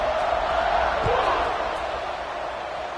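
A football stadium crowd roars in a broad, steady wash of cheering just before kickoff, with a voice heard within the noise.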